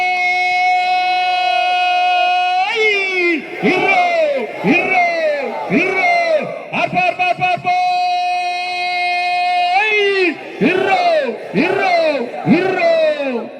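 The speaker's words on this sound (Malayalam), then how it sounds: "ഈ ആളുകള് ശ്രമിച്ചാൽ എവിടത്തോളം വരെ ആർപ്പുവിളിയും കൈയടിയും എത്തുമെന്ന് നമുക്കൊന്നറിയണം" A crowd at a Kerala boat race chanting and cheering together in loud rhythmic call-and-response bursts, with whoops and shouts rising and falling close by throughout.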